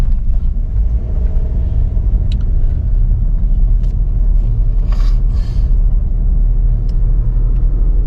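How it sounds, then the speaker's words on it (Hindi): Steady low rumble of a petrol economy car's cabin while driving with the throttle pressed gently, a constant road and engine hum throughout with a few faint higher ticks and no speech. "आप इस वक्त कैबिन नॉइज़ जितना भी है ये सुन सकते हैं"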